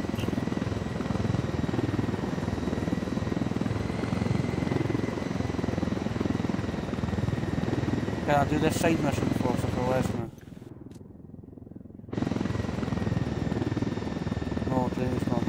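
A helicopter in the video game Ghost Recon Wildlands drones with a steady rotor and engine roar, with a rhythmic flutter midway and a brief dropout near the end, while players talk over it.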